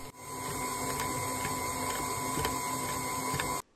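Electric mixer whisking cake batter at medium speed, a steady close whir that runs for about three and a half seconds and then stops abruptly.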